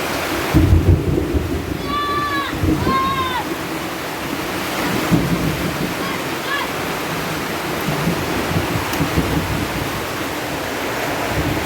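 Heavy rain pours down in a loud, constant roar, with strong wind gusting. A voice briefly calls out partway through.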